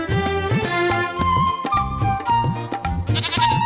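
A goat bleats repeatedly in quick, wavering cries close by, several calls in a row over a few seconds with no talk.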